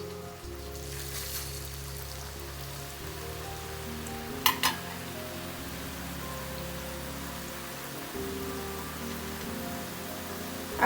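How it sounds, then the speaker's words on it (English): Rice chakli murukku frying in hot oil over medium heat, a steady dense bubbling crackle with a few brief sharp clinks partway through. "we have to go on frying until the bubble stops"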